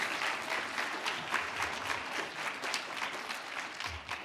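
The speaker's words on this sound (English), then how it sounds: "a round of applause for Capital One" A crowd at a hackathon's final demo event applauds, a continuous patter of many hands clapping at moderate distance for several seconds, with no talking over it.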